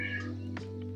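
A pet cat meows once for attention indoors, a soft, brief call heard close by in an otherwise quiet room.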